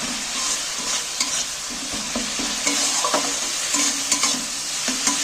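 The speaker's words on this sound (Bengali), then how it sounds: "আমি সামান্য একটু জল দিচ্ছি মশলাটাকে কষিয়ে নেব ভালো করে" Masala of red chilli with a splash of water is stir-fried in a pan for dal palak, giving a close, steady sizzle broken by repeated scraping strokes of a spoon, with no talking.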